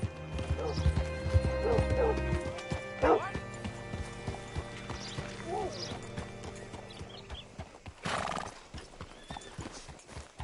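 Hooves clip-clop at a steady pace while a horse whinnies and snorts in the video game Red Dead Redemption 2, with voices talking over the scene and a dog barking faintly.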